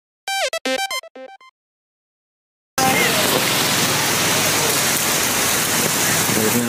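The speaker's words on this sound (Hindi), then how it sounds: "गाइस देखो बारिश हो रही है।" Steady rain falling, heard as a dense, even hiss that starts abruptly after a few seconds of silence and a brief high-pitched bird-like or squeaky voice, then continues loud and unbroken.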